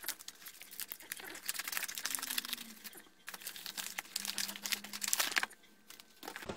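Packaging for a K6000 dashcam crinkles and rustles steadily as it is opened, close and fairly loud, with brief pauses in the handling and no talking.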